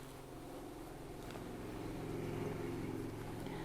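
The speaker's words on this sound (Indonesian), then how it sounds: "rumah Bidan Didi itu deket sama jalan, jadinya banyak suara motor." Motorcycles pass on a road near a house, a faint engine drone that swells and fades, rising toward the middle before easing off.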